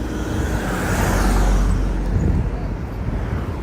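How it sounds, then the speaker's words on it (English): Steady roar of road traffic with vehicles passing continuously, a broad rushing wash that swells slightly mid-way and stays constant throughout. "Just lots of cars and stuff everywhere."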